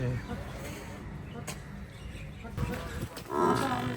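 Buffalo low and moo on a dairy farm amid farmyard noise and scattered talk, with a louder, closer call near the end.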